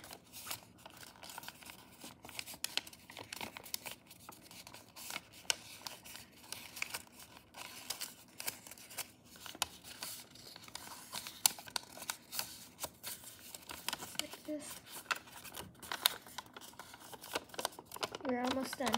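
Origami paper being folded and creased, with soft crinkles, rustles and sharp little taps close by, scattered irregularly over a quiet background.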